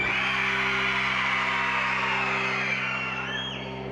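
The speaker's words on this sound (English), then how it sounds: "we want you to scream the scariest shriek you can" A middle school winter concert audience screams scary shrieks on cue, a loud burst of massed yelling over a steady low hum that fades slightly toward the end.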